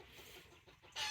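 Backyard chickens near a raised garden bed cluck in short, faint bursts, with a louder squawk at the end.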